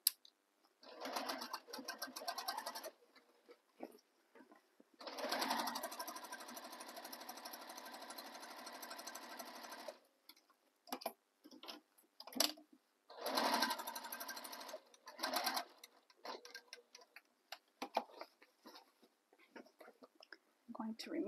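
A sewing machine stitches a tote bag in several loud bursts of rapid, whirring stitches, separated by short pauses and quieter gaps.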